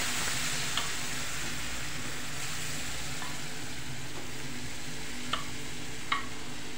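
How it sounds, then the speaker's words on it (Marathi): Cooked dal poured a little at a time into hot sizzling tempering with sambar masala in a pan for a South Indian dish, giving a steady close frying hiss with a few faint clinks. "पटकन टाकल्यामुळे फोडणी सगळी उडली जाते म्हणून मी हळूहळू टाकते असं थोडं थोडं"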